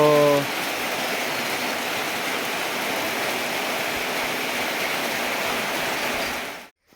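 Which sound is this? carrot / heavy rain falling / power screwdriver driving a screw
heavy rain falling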